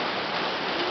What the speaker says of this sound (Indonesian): Hujan yang turun.